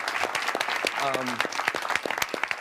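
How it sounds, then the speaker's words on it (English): Studio audience at a televised town hall breaks into sustained applause, dense and steady throughout, with a few cheers and a voice briefly rising above the clapping. "Give a round of applause."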